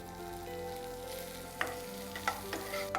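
Capsicum sizzles in a pan with ginger, garlic and green chillies, a steady frying hiss broken by a few sharp spatula scrapes and stirs.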